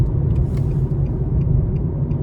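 A 2024 Nissan Versa S with a 1.6 liter four-cylinder engine accelerating at mid throttle, heard from inside as a steady low engine drone with road rumble, continuous and moderately loud.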